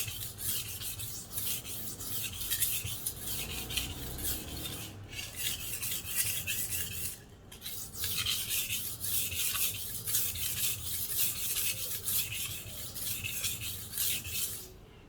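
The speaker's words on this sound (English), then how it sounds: "when you are sharpening a knife, what you're doing is not only realigning the edge, but you're shaving off metal" A knife being sharpened, with its edge ground against a sharpening surface in steady, continuous rasping strokes, close and clear, broken by two brief pauses partway through.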